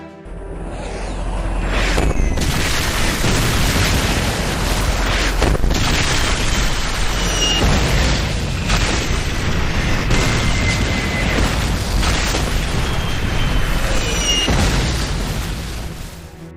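Artillery strike explosions, a loud continuous barrage of deep booms and bursts with whistling incoming shells overhead, rolling on for the whole stretch without pause, no speech.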